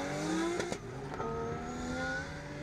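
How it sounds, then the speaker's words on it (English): A Nissan S15 drift car with a 600-horsepower RB25 engine launches off the line at a drift competition, its engine revving hard with rising tones and a sharp shift, loud and continuous, with crowd noise underneath. "Darrell Mcfarland comes off the line in his beautiful S15."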